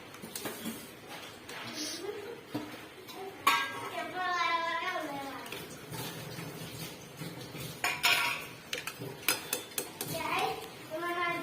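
A pot of veg biryani being stirred, with scraping and clinking of a spoon against the metal pot, accompanied by background speech, including a voice.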